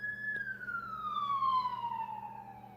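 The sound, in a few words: ambulance siren passing nearby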